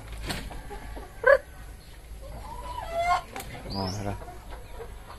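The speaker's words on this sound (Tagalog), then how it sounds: "Ito na yung abrihan ng mga manok." Chickens cluck in short bursts around a farmyard, with a brief nearby call and a voice speaking in between.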